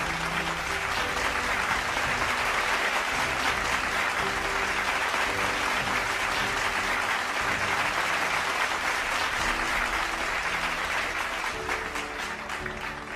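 An outdoor crowd at the Pantonix Tiger Run in Dhaka gives steady, loud applause for the women's category champion. The clapping holds evenly for over ten seconds with little change.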